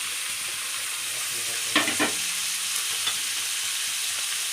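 Two large chopped onions sautéing in hot oil for a prawn curry, giving a steady, bright sizzle throughout with a couple of brief stirring scrapes near the middle and no voices.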